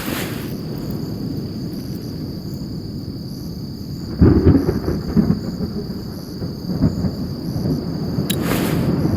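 Storm ambience in the fantasy strategy game Spellforce 3: a steady low rumble of wind and rain, with a heavier thunder roll swelling near the middle and a brief crack near the end.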